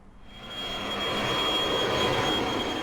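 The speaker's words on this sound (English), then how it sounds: "A final fly past for an iconic aircraft and a farewell to Waddington, its home" A Nimrod R1 jet aircraft passes overhead at RAF Waddington, a steady broad roar that swells within the first half second and holds loud and even, with no voices.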